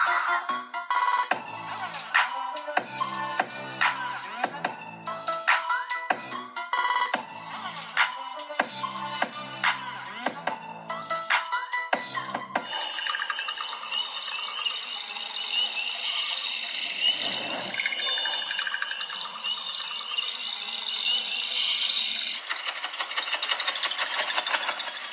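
Music played through the stereo speakers of a Vivo V40 smartphone: a rhythmic plucked pattern with punchy hits for the first half, then a brighter, denser and steadier passage, heard alone with no talking.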